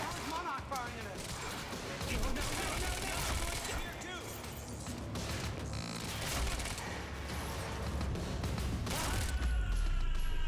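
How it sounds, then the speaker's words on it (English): Automatic gunfire bursts in the Quantum Break video game, a dense and continuous barrage mixed with crashes and booms, with game characters talking over the fight throughout. "You heard the gunfire."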